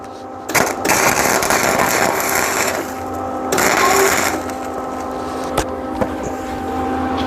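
Tack welding on a go-kart frame gives short crackling, buzzing bursts separated by pauses, with a couple of sharp clicks between them, close and fairly loud over a steady background machine hum.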